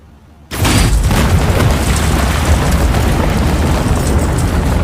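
After a moment of near silence, a sudden loud boom erupts into a sustained, roaring rumble that fills the rest of the clip.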